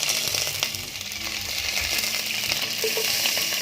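Mustard seeds crackling in hot oil with curry leaves added, a dense close sizzle with small pops and a light stir, for a sattvic Konkani kadgi chakko.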